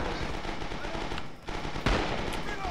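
Rapid automatic gunfire in the World War II shooter Rising Storm, set on Guadalcanal, loud and continuous with dense overlapping shots and a sharper burst near the end.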